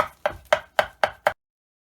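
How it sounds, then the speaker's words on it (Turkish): Six quick, crisp knife chops finely mincing parsley on a cutting board in a steady rhythm, close and clear, then stop. "Maydanozlarımızı kıyıyoruz ince ince."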